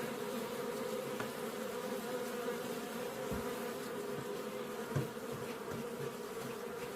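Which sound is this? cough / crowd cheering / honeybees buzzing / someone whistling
honeybees buzzing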